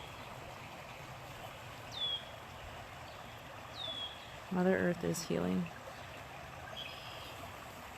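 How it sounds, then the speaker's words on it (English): An outdoor stream flows with a steady, soft rushing wash, while a few birds chirp faintly in the background and someone speaks briefly over it. "Listen to that, the beautiful music of the water."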